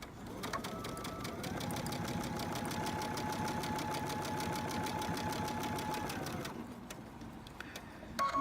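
A sewing machine runs steadily, stitching a preemie shirt with a fast, even mechanical whir and rapid needle clatter for several seconds before stopping, with a few small clicks after.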